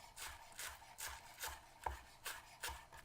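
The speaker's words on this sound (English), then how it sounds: "that's some chives, which I'm going to finely chop." A knife finely chops chives on a cutting board in a quiet kitchen, giving about eight soft, evenly spaced taps with a faint scraping edge to each stroke.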